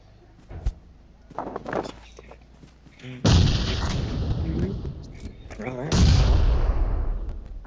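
A cooked grenade explodes in a video game as a sudden loud blast with a rumbling tail, followed by a second heavy boom a few seconds later, after quieter game sounds and brief speech.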